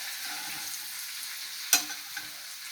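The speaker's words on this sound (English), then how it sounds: "Okay, now we're gonna do something called butter basting." Ribeye steak sizzling in a hot pan as melted butter is spooned over it, a constant bright frying hiss with one sharp splattering spike partway through and a smaller pop after; no talking.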